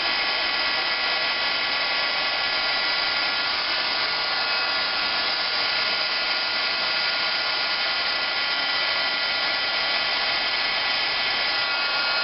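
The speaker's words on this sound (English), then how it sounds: "I'm going to use our heat tool and set the powder" A craft heat tool sets embossing powder on a lighthouse birthday card, giving a continuous, loud, hair-dryer-like blowing hiss that holds steady throughout.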